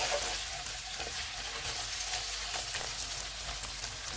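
Chicken pieces for malai boti biryani fry steadily in hot oil over a low-to-medium flame, giving a continuous close sizzle with faint crackles throughout and no talking.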